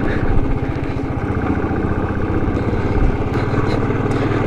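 Motorcycle engine running steadily on a snowy, slippery mountain road near Kunzum Pass, a continuous loud mid-pitched drone with steady low rumble throughout.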